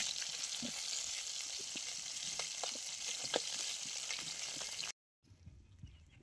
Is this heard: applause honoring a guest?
no